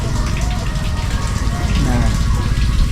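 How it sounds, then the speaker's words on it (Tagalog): Floodwater flowing near a restroom area after a flood, a steady loud rushing gush with deep churning rumble that holds level throughout, with faint voices beneath. "daloy ng tubig, oh"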